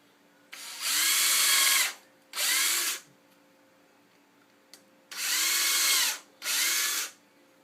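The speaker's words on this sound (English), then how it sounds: "and then I'm going to pre-drill them" A power drill whines in four bursts, two pairs separated by a pause, each bit spinning up and pre-drilling steadily into wood nearby for a rat rack.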